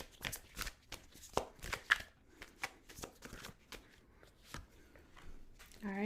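A Tarot of Oppositions deck is shuffled by hand, soft close riffling and tapping card sounds in quick uneven bursts, fairly faint, with a brief voice near the end.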